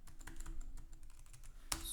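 Typing on a computer keyboard while entering a command in a terminal: a quick, quiet run of close key clicks with a sharper keystroke near the end.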